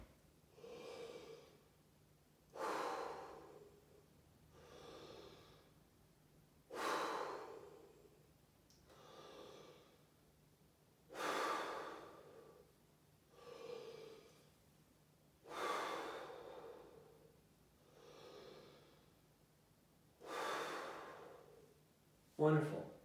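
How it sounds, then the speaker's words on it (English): Deep, slow breaths during a group breathing exercise, about ten forceful inhale-exhale cycles in a steady rhythm, close and clear with no talk between them. "just deep breaths, here we go."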